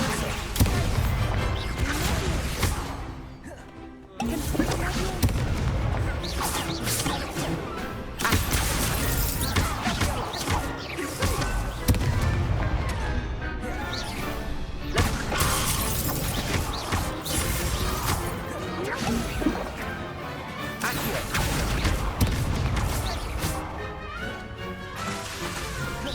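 Spell effects in Hogwarts Legacy fill the scene: fire bursts, crashing blasts, whooshes and thuds in a dense, loud, continuous barrage, with a voice shouting over it.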